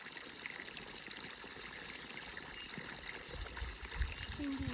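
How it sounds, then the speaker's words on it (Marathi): Irrigation water flows into a groundnut field, a faint, continuous trickle and burble heard at a distance and fairly quiet, with no speech over it. "इकडचं वरून पाणी निघायला लागलं."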